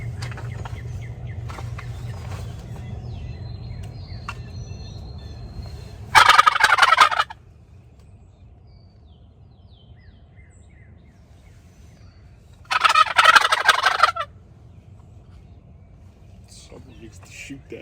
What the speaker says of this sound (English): I like a Jake. That's what it sounds like. It's a Jake, and that's what you want.